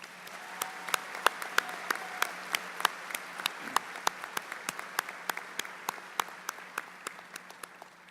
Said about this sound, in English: So let's start by giving them a big round of applause.